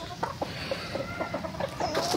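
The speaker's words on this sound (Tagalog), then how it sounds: "lahat ng mga manok dito" Chickens and roosters at a game farm cluck in quick, repeated calls, close and fairly loud against a steady farmyard background.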